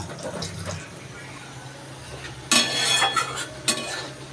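A spoon scraping and stirring food in a metal cooking pot, a few bursts of clattering strokes, close and fairly loud, with a short lull in between.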